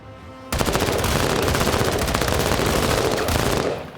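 A sustained burst of rapid automatic gunfire in the tactical video game Menace, loud and close, with a fast, even stream of shots lasting about three seconds before stopping.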